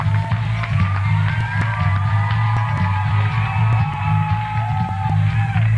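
A studio audience at a game show claps and cheers continuously, with loud, dense applause and scattered whoops throughout.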